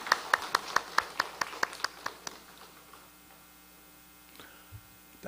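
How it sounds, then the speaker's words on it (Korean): A church congregation at a Wednesday mothers' prayer meeting claps together in a quick, evenly spaced burst of about a dozen claps, fading out within two seconds, followed by quiet room hum and a faint thump. "환영합니다. 박수합시다."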